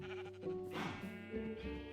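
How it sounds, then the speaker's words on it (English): Sheep in the Minecraft video game bleating, a loud, close, wavering cry that swells midway and trails off over a low background. "This sheep needs to go"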